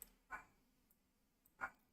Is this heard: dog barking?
yes